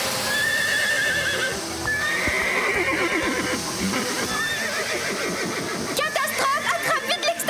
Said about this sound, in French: Marie et Rosa, aidez-moi à calmer les chevaux!